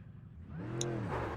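Mercedes-AMG GT3 EVO (2020) engine in the iRacing sim at Spa-Francorchamps, a steady close engine note with rising harmonics as it accelerates, continuous through the short stretch.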